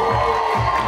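A crowd cheers and applauds for a children's dabke dance performance at Artek, a brief, loud, steady wash of voices and clapping.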